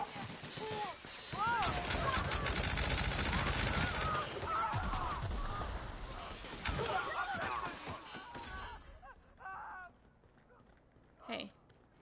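Video game gun with heavy recoil firing dense, loud bursts of shots that gradually thin out and fade, mixed with other game noises, while people talk over it.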